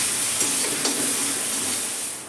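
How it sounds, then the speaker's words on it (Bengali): Spice masala sautéed in a pan over a low-to-medium gas flame after a splash of water gives a loud, steady sizzling hiss, with a couple of faint spoon scrapes. "গ্যাসের ফ্লেমটা আমি লো টু মিডিয়ামে করে দিয়ে এবার কষাবো"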